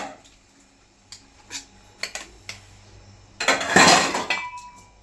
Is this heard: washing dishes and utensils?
yes